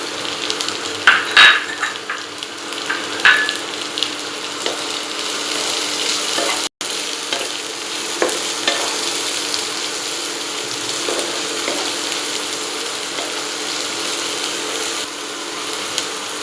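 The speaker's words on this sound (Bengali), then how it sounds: "ক্যাপসিকামটাও আমাদের ভাজা হয়ে গেছে" Chopped capsicum and onion frying in a pan for Indian-style masala pasta, giving a steady close sizzle with occasional stirring clicks throughout, no talking.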